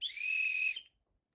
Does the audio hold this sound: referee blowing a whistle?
yes